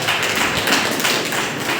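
A church congregation at a Sunday worship service claps together, a dense, loud, steady wash of many hands close around, with no voices over it.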